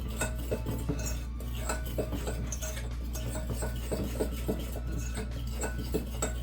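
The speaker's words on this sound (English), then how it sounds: "We're going to mix that up, mix our dry ingredients." Dry ingredients for a cherry cobbler being mixed in a bowl, with a steady run of close, light clinks and scrapes of a utensil against the bowl and no talking.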